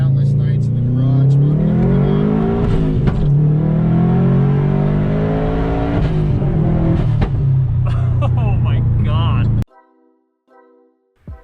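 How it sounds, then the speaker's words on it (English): A modified 2004 Subaru WRX engine revving loudly and close by, rising and falling in pitch for about ten seconds before cutting off abruptly, followed by a faint trailing tone. "Here's a quick clip of Raymond's car."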